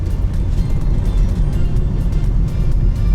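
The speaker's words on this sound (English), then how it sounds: "So of course, this is the 10 valve Audi Quattro." A 1986 ten-valve Audi Quattro engine hums steadily from inside the car while driving, a loud, continuous low drone with road rumble and no voices.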